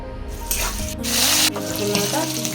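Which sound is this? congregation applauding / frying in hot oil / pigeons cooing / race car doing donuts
frying in hot oil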